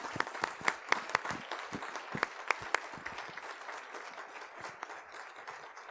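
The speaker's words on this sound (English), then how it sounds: "let's give them a round of applause" A school board meeting audience applauds students and staff, a steady wash of many hands with scattered sharper claps standing out, moderately loud and continuous with no talking.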